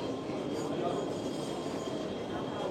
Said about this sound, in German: Da kommt unsere Bahn.